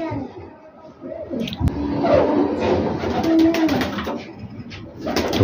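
A Teddy pigeon coos softly several times nearby in Faisalabad, with rustling and faint voices in the background.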